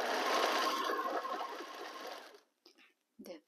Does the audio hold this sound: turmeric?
no